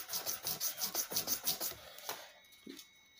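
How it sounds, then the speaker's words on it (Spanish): A sanding block with sandpaper rasps back and forth over a nickel silver part of a BC Rich Warlock bass guitar. The strokes come in a steady rhythm, close and clear, then slow and stop. "si yo paso el taco para rectificar de acá hasta acá, digamos, en esta dirección"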